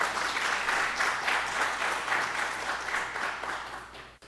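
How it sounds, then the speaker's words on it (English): An audience at a symposium breaks into sustained, dense applause that holds steady for several seconds, then cuts off abruptly at the end. "Let's give ourselves a round of applause."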